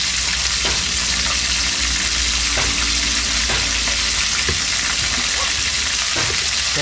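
Cooking oil crackles and sizzles in a pan, steady and close, with occasional scraping stir sounds breaking through the continuous frying hiss.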